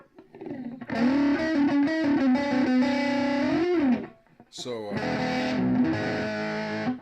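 Distorted electric guitar played loud through a Peavey Rage amp with Transtube circuitry, sustained chords and bends ringing out, a short pause, then another heavily saturated phrase with chorus-like shimmer.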